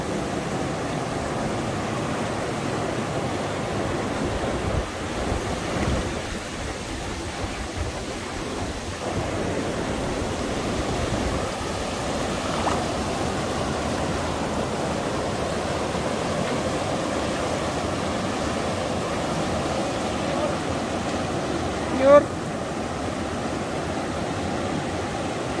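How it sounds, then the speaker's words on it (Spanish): The swollen Torola river rushes past in a steady, full roar of flowing water, constant and fairly close, with no talk over it. "Río Torola está con todo ahorita"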